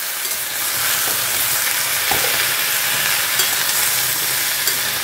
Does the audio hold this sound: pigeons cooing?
no